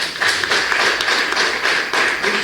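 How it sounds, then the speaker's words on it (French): Audience applause at a community development association gathering, a dense steady patter of many hands clapping continuously throughout, fairly loud and close with no voices over it. "Applaudissez une fois pour vous."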